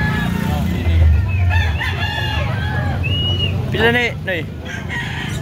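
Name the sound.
rooster crowing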